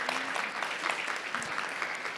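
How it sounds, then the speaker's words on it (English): An audience at an entrepreneurship talk applauds the panelists, a full, steady round of many hands clapping throughout with no speech on top. "Let's give them a round of applause."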